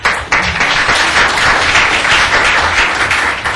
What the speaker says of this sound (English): she does deserve applause for so many things she does.